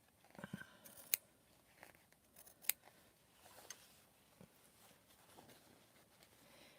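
Scissors snip near a quilt block on a jean jacket sleeve. A handful of sharp, close metallic cuts fall irregularly over a quiet background with faint handling rustle.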